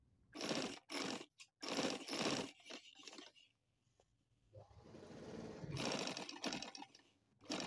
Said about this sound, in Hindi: बुकरम के साथ साथ सिलाई लगानी है,